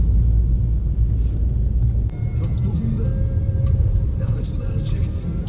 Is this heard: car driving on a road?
yes